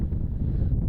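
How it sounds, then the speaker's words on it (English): Steady wind buffets the microphone at an outdoor men's college soccer match on a sunny day, a low continuous roar with no voices. "sunny day, a little windy out here"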